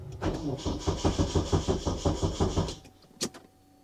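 A car engine with a weak battery cranks slowly in a steady rhythmic chug for nearly three seconds, loud and close, then stops; a sharp click follows in the quiet.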